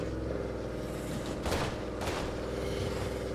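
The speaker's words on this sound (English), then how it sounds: "Hey, did you hear that? Gunshots." Distant bursts of gunfire in a zombie survival video game, two sharp cracks standing out over a steady low rumble and layered background game sound, with no talking.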